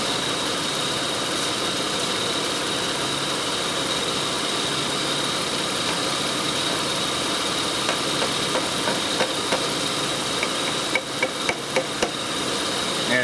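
A Toyota 3-liter VVT engine with a valve timing fault idles steadily, a continuous mid-pitched hum with faint ticking, joined near the end by a few sharp metallic taps.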